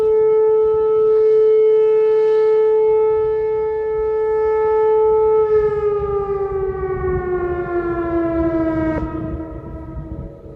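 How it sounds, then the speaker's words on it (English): A loud tornado warning siren during its weekly test in Columbus wails with a steady tone, then slowly winds down in pitch, echoing outdoors with no voices. "they test the tornado sirens."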